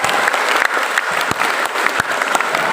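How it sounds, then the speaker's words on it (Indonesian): An audience at SMAN 1 school claps for the speaker Pak Wahyu Hidayat; many hands patter steadily with sharper individual claps popping out here and there, fairly loud and unbroken throughout. "tepuk tangan lagi buat Pak Wahyu."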